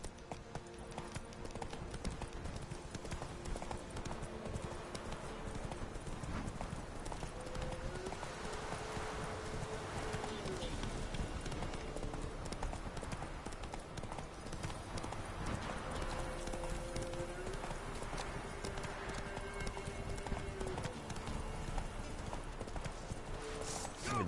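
Horse hooves in the video game Witcher 3 Wild Hunt pound out a steady, rhythmic clip-clop gallop the whole time, under soft game ambience and music, with no voices.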